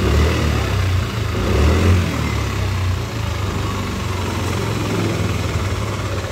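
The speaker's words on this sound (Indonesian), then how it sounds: "Keluhan awal motor kasar, suaranya kasar." A Yamaha Lexi scooter engine idles roughly, with a harsh, helicopter-like chop in its steady low-pitched running, loud and close throughout.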